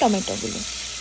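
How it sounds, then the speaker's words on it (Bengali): Ginger and chili sizzle steadily in oil in a pan, a constant bright hiss, close up, with a brief voice at the very start. "দুটো দিয়ে দেওয়ার পরে যখন দেখবে মোটামুটি সেটা একটুখানি ভাজা হয়ে যাচ্ছে"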